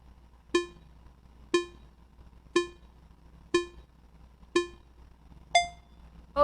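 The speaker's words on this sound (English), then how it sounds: "Let us have the timer again." A quiz countdown timer sound effect: six evenly spaced, bright electronic ticks about one second apart, each with a sharp attack and quick decay, the last one higher in pitch, with no talking.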